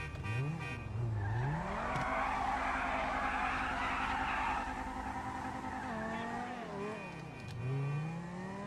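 A car in GTA 5 revs and skids, with tires squealing as engine pitch climbs and falls through several sweeping slides, loud and close, alongside game music.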